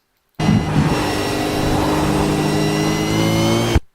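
A racing car in a video game at Motegi holds a loud, close, steady engine note with clear harmonic whine while upshifting to fourth gear, ending abruptly.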